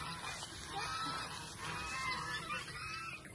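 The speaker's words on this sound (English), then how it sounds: "It is so noisy at the birds." A dense chorus of geese honking together on a farm, noisy and overlapping, fairly close with no clear pauses.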